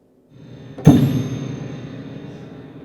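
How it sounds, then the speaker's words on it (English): A Viennese piano's pedal sets off its drum and bell stops together: a soft thump followed by one loud metallic clang that rings and slowly decays, heard alone and close. "So if I use this pedal, you hear the drum and the bell"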